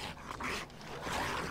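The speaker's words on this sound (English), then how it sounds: "Dogs are trying to get in the back? No, they're coming out of a room in the house." Dogs growl and whine in the survival game 7 Days to Die as they come out of a room in a house, a low, rough snarl that rises and falls over about a second and a half, moderately loud with no talk.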